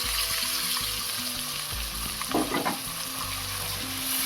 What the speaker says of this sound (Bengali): লাল লাল করে ভাজা হয়ে গিয়েছে এবার মাছগুলো আমি ঢেলে দেব